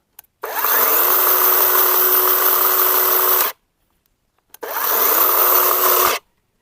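A Grosser GCS 120SF cordless electric chainsaw with a 20-volt, 6-amp battery whirs up to full speed and runs loud and steady for about three seconds, stops, then revs again briefly before cutting off.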